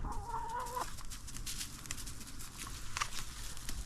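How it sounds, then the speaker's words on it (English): Baby chicks and adult chickens cluck and peep close by at night, with a steady chorus and one brief louder cheep. "Come on, baby chicks,"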